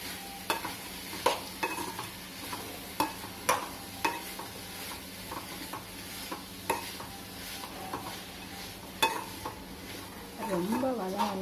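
Tomatoes and onions sauté in a pan for mutton curry, a quiet continuous sizzle broken by a steady series of sharp spoon clinks and stirring scrapes against the metal.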